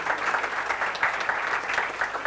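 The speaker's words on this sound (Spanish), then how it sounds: "les damos un aplauso" Brief, steady applause from an audience at a prize ceremony for a company footrace, a dense patter of clapping throughout.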